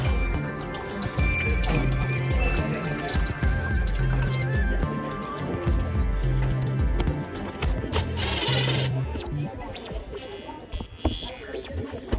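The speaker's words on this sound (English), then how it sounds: "Just let that drain until it drains no more." Water trickles and drips out of a clay trap under a sink, a busy, uneven splatter heard close up with a brief gush partway through.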